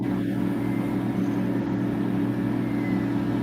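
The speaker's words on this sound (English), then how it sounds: "You have to excuse the noise. That's Jim's toilet." A household toilet running in the background, a steady low rumbling hum that holds at an even level throughout with no talk over it.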